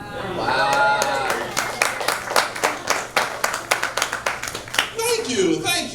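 A live comedy show audience at a club in Richmond, Virginia, claps in a burst of scattered, rapid hand claps that thin out toward the end, heard under someone talking.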